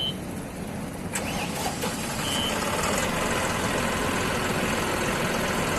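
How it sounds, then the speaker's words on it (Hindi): A John Deere 5405 4x4 tractor with a CRDi engine runs nearby at a steady low idle, a continuous quiet rumble with a brief faint beep early on. "और जो ट्रैक्टर का जो साउंड है वो भी सुना देते"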